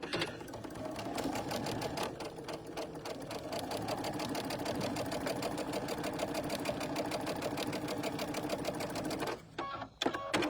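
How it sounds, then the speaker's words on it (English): A sewing machine runs steadily as it stitches a quilt, a fast even mechanical chatter of needle strokes that continues nearly unbroken, close and moderately loud, with a brief slowdown and stop near the end. "There's a lot of sewing in this project."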